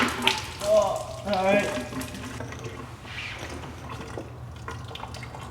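Antifreeze coolant gushes and splashes from the radiator of a 1995 BMW M3 being drained, a steady watery pour with drips under brief speech near the start.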